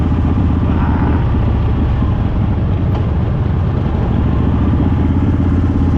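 Harley-Davidson Fat Boy motorcycles cruising on a highway out of Florida, a loud steady engine drone with rumbling low end and wind roar continuing throughout, no voices.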